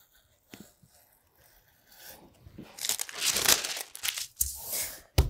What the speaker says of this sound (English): I'm just gonna fold it along there with some extra paper, fold along the center front, and then when it's folded, I can cut it out